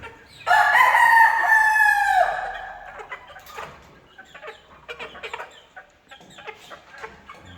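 A rooster crows loudly and close by, one long drawn-out call, followed by scattered clucking and rustling movements.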